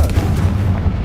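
A Confringo blast spell explodes in Hogwarts Legacy as a short, heavy, booming burst with a sustained low rumble, loud and close, with no voices.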